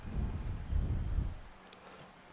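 Rain and a low rumble of thunder in the F1 2014 racing game, a steady muffled roar that swells and fades, then a sharp burst at the end.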